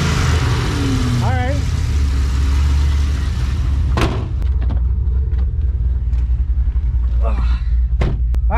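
A cammed Pontiac G8 V8 idles with a loud, lumpy rumble close by, rising in a short rev early on, with a door slam and brief talk over it.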